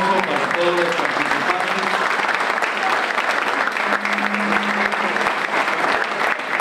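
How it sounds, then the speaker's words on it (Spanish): Audience applause for the participants of a televised vice-presidential candidates' forum in Costa Rica, loud sustained clapping from a crowd with faint voices underneath. "Un aplauso para todos los"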